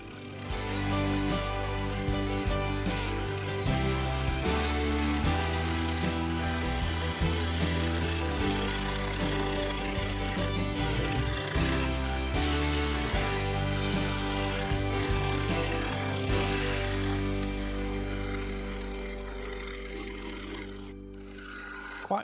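A wood lathe turns an offcut blank for a lidded bowl while a bowl gouge removes material, giving a loud, steady rasping cut with a continuous motor hum throughout, no voices.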